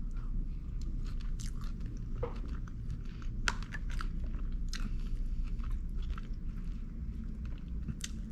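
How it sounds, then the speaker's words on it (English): Close, steady chewing of a bite of pork chop with creamy mashed potatoes, soft wet crunches and squishes repeating through the whole stretch with no talking. "Another pork chop with mashed potato bite."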